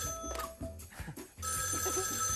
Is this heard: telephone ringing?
yes